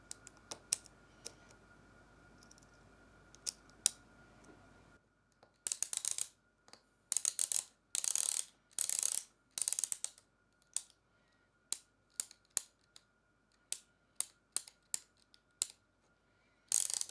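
A 3D-printed ratchet mechanism fitted with smaller, half-length springs clicks in quick bursts of crisp, close ticks. The bursts start and stop irregularly after a quiet opening stretch with faint background hum.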